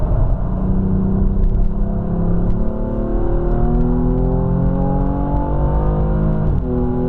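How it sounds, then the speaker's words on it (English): A powerful 3-litre twin-turbo six-cylinder car engine of about 450 horsepower revs up steadily, pitch climbing through the gears with a brief shift near the end, loud and close, on the Nürburgring. "3 litres, 6 cylinders, 2 turbos, 450 horsepower."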